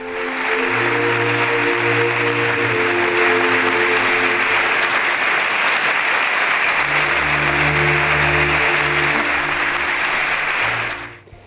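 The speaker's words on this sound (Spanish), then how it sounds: "Con un caluroso aplauso de los presentes se acompañaba al obispo electo de Zamora" Sustained, warm applause from a crowd greeting the bishop-elect of Zamora, continuous and fairly loud for about eleven seconds before it cuts off abruptly.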